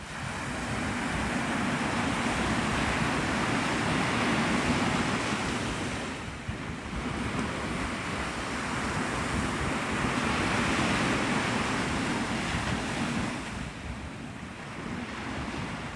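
Ocean surf rolling onto the shore at Navarre Beach, Florida, at sunrise, a steady broadband wash of breaking waves with wind buffeting the microphone, swelling and easing in long surges throughout.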